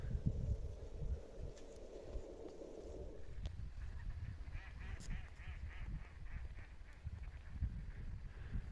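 A large flock of wild ducks calls at an old apiary, a dense clamor of overlapping quacks and honking cries from many birds at middle distance, loud at first then continuing in scattered bursts.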